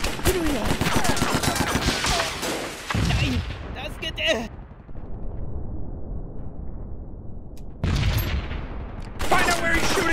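Gunfire in the video game Mud and Blood Pacific: loud bursts of rapid shots and booms for about four seconds, a quieter lull, then more bursts near the end.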